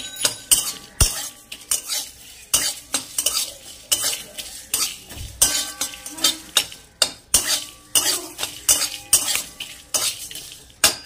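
Close, busy stirring of mixed vegetables frying in a pan: frequent metallic scrapes and clinks of a utensil over a soft background sizzle, no voices.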